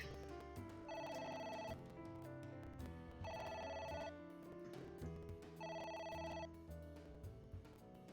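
A telephone rings three times in an even pattern, each trilling ring followed by a pause, heard over faint background sound.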